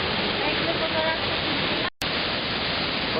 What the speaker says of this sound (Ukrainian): Отакі цікаві якісь водоспадики, які під час дощу теж ось тут проливають свої сльози.